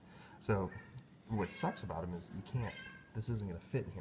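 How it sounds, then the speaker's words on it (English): Domestic cat meowing on an egg farm, a few short cries rising between and under a person talking close by. "that's my cat"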